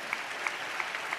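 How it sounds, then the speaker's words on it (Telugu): Brief, fairly faint steady clapping from a congregation giving praise during a church sermon. "చప్పట్లు కొడుతూ స్తోత్రాలు చెప్దాం."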